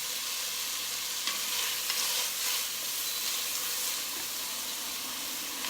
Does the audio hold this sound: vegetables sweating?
yes